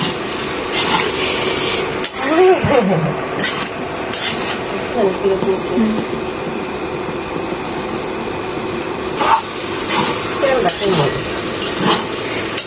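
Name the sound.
stirring pasta being cooked in a pan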